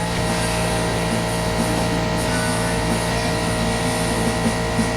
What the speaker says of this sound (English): Gonna have lots of compressor noise in this one. Since my big compressor's down.